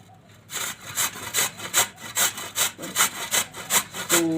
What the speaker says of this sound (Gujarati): આ રીતે આપણે ખમણી લેવાનું એકદમ સરસ આ રીતનું પડવું જોઈએ